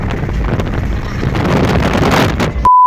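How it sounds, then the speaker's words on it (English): Strong gusts buffet the microphone in a continuous loud roar during a stormy drive on Scotland's NC500 route, with no talk, before the recording cuts to a brief steady tone at the end. "The wind is absolutely mental"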